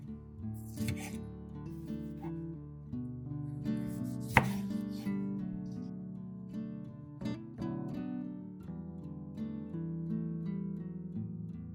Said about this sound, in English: I slice the lemons and remove all the seeds to avoid bitterness